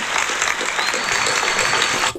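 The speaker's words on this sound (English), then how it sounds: "A big round of applause for that." A crowd breaks into brisk, sustained applause for an English-lesson debate on cryptocurrency, a loud even burst of many hands that cuts off sharply after about two seconds.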